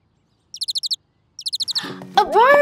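Two quick bursts of high, rapid bird chirps, each a run of five or six sharp tweets, followed by a louder, swooping call with some lower rumble beneath.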